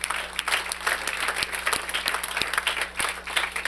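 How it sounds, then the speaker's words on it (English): Audience applause at a national sales challenge event, a dense steady wash of many hands clapping throughout, fairly distant in a large room. "I want to give you a round of applause as well."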